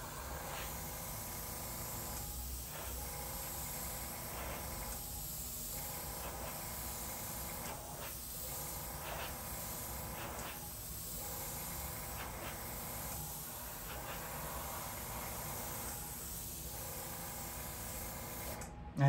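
An airbrush sprays paint in layers for clouds and water, a faint steady hiss that dips briefly at regular intervals as the trigger eases off and on.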